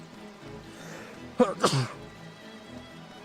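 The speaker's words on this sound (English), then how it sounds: "Hooray for sneezes." A character in the video game Baten Kaitos sneezes in a quick two-part burst over a quiet, steady game background, the sharp sneeze standing out clearly near the middle.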